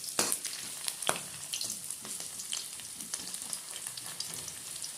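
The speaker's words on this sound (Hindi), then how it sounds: "इसको भी गोल्डन ब्राउन होने तक भूनेंगे।" Cabbage, potato and pea curry ingredients frying in a hot pan, a steady close sizzle and crackle with sharp spits and pops throughout, no voices.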